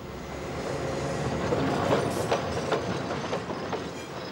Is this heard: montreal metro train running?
yes